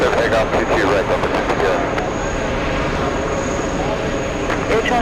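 A jet airliner taking off from runway 22 right at JFK airport, a loud steady engine roar held throughout, with faint radio chatter partly audible at the start.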